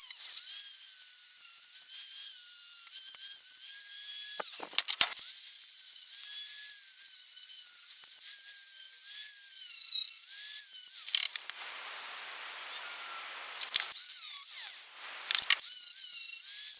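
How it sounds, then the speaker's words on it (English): Power tool grinding paint off the steel body of a Camaro, a steady high-pitched whine and scraping held for long stretches with brief dips and one pause, loud and close, no talk. "I'm just going to strip all the paint back off of this area to see what I am working with"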